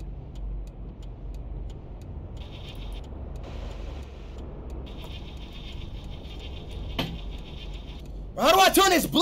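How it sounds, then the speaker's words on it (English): A car engine starting in a driving video game runs as a low, steady hum under faint repeating tones, ending with a short burst of excited talking. "Bro, I start the car."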